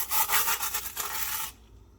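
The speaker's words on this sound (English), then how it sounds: "I do get the bigger base plates and stuff, and I do give them a quick scrub with my" Quick scrub of dusty Lego base plates with a small brush, a bright bristly rubbing in rapid strokes, close and loud for about a second and a half before stopping.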